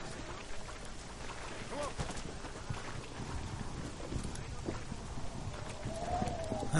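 Horse hooves clip-clop steadily in the video game Red Dead Redemption, a moderate rhythmic trot set against wind and outdoor ambience, with a voice talking faintly over it.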